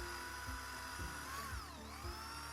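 A drill spins a bit into a metal pulley, boring the hole first with a 4 mm bit and then an 8 mm bit, making a steady close whine with faint rhythmic pulses and no talking.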